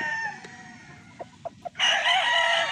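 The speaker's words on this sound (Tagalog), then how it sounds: "So yan lang po ay isa sa example ng aking mga cock. So Boston Millionaire po yan." A three-year-old Boston Millionaire gamecock, white with black wings, crows loudly and close in one long call, preceded by a few short clucks over a faint background.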